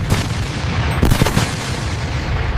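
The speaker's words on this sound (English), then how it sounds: "The Soviet god of war, the artillery opened the battle for 2 hours." Artillery barrage sound effect: dense, continuous rumbling booms of heavy guns firing in rapid overlapping succession, loud and close, with a sharper cluster of blasts around the middle.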